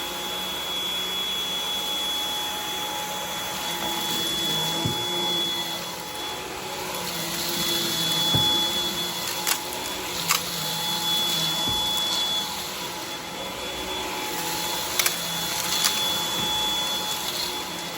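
A Samsung Jet 90 cordless stick vacuum runs steadily on mid suction over carpet, a continuous whine with a high tonal hum and a few sharp clicks and rattles of debris being picked up, no talking.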